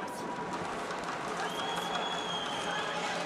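Home crowd at a boxing World Championships flyweight quarter-final, a steady roaring wash of cheering and applause from a packed arena, continuous and loud throughout.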